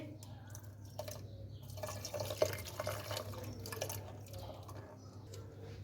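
Water splashes and trickles into a pot in uneven bursts over a low background hum, fairly soft and close.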